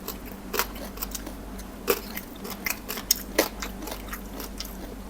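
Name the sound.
biting and chewing crispy fried rice-field crab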